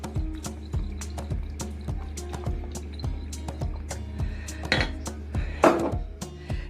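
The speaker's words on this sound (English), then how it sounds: "Give it a good stir" Mince stirred in a pot after seasoning with salt, pepper and Worcestershire sauce: a steady run of metallic clinks and scrapes of a spoon against the pan, close and fairly loud, with no talk.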